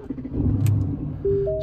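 A 2018 Aston Martin DB11 in GT mode starting up: a loud low rumble swells and settles into a steady idle, with a tonal whine rising near the end.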